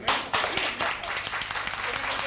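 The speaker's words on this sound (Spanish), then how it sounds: "Un aplauso." Applause from a gathered audience at a centenary celebration for the Carmelite Sisters in Abarán, a dense patter of clapping that swells sharply at the start and continues evenly, moderately loud and close.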